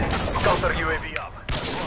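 A gunshot trickshot in Call of Duty MW2, a few sharp game gunfire bursts mixed in with game effects, fairly close and loud.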